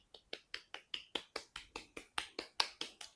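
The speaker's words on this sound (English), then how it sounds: "Flamenco claps, all the claps." Sharp flamenco hand claps from a song ring out alone in a steady, even rhythm, about fifteen crisp claps in quick succession, close and clear.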